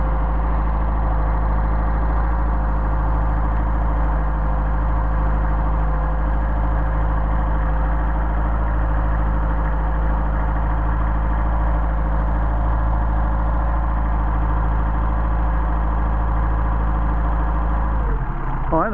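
A car engine idles steadily on Solex 44PHH carburettors, a loud continuous rumble with an even low throb held for the whole stretch, changing only at the very end.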